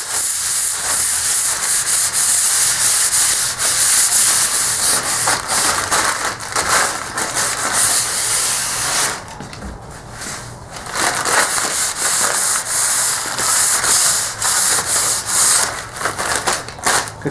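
Paper bag rubbed hard over a wood finish to smooth it, a loud steady scratchy rustling and crunching that pauses briefly and then resumes.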